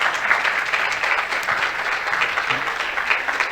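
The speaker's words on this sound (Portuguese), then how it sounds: "pedimos que também receba uma salva de palmas" Sustained audience applause from a seated crowd at a panel discussion closing, dense steady clapping filling the room with no pauses.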